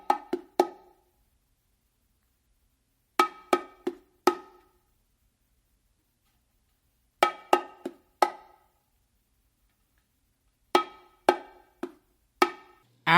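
The full martillo pattern played on bongos: four clusters of three or four sharp, close-miked strikes, with long silent pauses between the groups.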